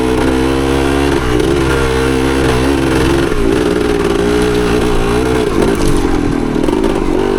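A 1975 Yamaha DT250 motorcycle engine on a trail ride, loud and close, droning steadily with pitch rising and dipping through gear shifts, plus rattling clatter over rough ground.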